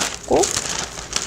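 Thin plastic wrap crinkles as it is pressed into a Valentine's Day flower box lined with pre-crumpled paper. There is one short, close rustling burst, with light handling noise before and after it.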